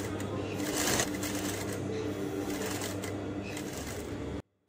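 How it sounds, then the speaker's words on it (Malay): Sewing machine stitching blouse fabric, reinforcing a center seam, a steady rapid mechanical whirr running close and loud for about four seconds before stopping abruptly. "Bahagian tengah ini, jahit lagi untuk pastikan ia kukuh"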